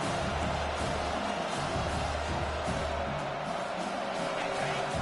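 A stadium crowd in a college football video game, Ohio State against South Carolina, keeps up a dense, steady roar for several seconds, loud and continuous with no clear breaks.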